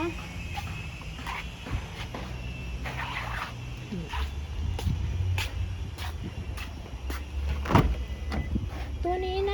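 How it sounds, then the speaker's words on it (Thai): Electric power windows of a 2019 Toyota Revo 2.4 J manual pickup whir in short motor bursts, alongside door and cabin clunks, close up. "มาพร้อมกับกระจกไฟฟ้านะคะ"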